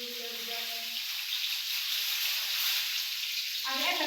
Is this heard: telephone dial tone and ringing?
no